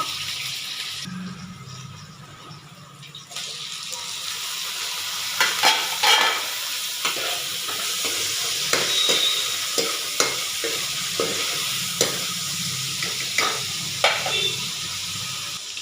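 Onions frying in a pan with mustard seeds, a soft steady sizzle broken by repeated scraping clinks of a spoon stirring them at irregular intervals, with no talking.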